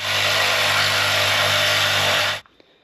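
A power tool cuts through steel exhaust pipe taken off a 1975 Camaro, a loud, steady, buzzing whine lasting over two seconds before stopping abruptly, followed by a few faint clicks.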